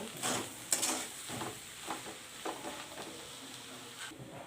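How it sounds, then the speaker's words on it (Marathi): Spices and salt for a samosa filling being stirred and mixed in a pan, giving soft irregular scraping strokes over a faint sizzle, fairly quiet and close, with no talking. "आता हे सगळे मसाले असे मिक्स करून घेऊया"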